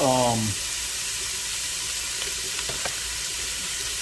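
Sausage sizzles steadily in the bottom of a pan while red beans and rice are being cooked, a continuous hiss running through the whole moment after a short voiced sound at the start.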